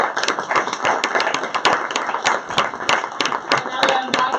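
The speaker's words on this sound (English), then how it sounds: "Please give a big applause." Audience applause at an industry IoT event, a dense run of sharp hand claps from a nearby crowd that stays steady and fairly loud throughout.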